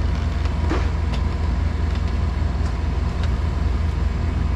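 The motorised armless awning on a Thor Magnitude RV extends with a steady, even motor drone that stays up close and unchanged, with a few faint clicks in it.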